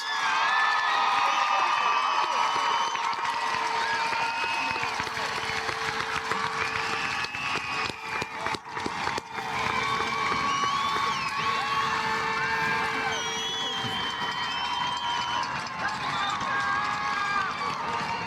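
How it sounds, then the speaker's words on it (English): A graduation crowd at the Woodhaven High School commencement applauds and cheers in a steady, loud roar for the whole stretch, with shrill whistles and scattered shouts rising above the clapping. "How about one more round of applause for earning those well-deserved diplomas?"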